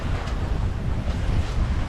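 Strong wind buffets a sailboat off Majorca as waves wash against the hull, a steady loud roar of gusts and surf with no voices.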